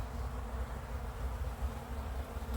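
A dense, steady buzz of many honeybees flying close around a hive, humming continuously with no voices.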